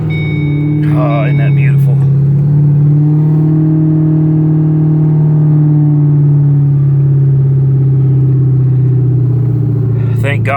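A Ford Mustang GT that was wrecked in a crash and has sat idle for a couple of days starts up and settles into a loud, steady engine drone. Someone speaks briefly over the start, and a sharp sound comes at the very end.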